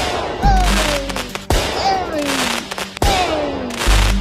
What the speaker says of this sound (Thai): ฉันจะจุดประทัดที่เหลืออยู่เนี่ยแหละ